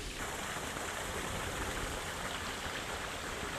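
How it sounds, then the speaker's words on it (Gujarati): A farm motor pump sends water gushing out fast in an onion field, a dense, steady rushing roar of flowing water heard close and unbroken throughout, with no voices. "બહુ પાણી કાઢે છે મોટર ફાસ્ટ"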